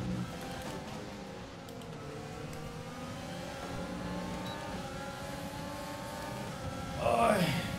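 F1 car engine in the F1 2020 racing game, a steady sustained whine with rising harmonic bands as it runs down the straight, getting louder and busier near the end.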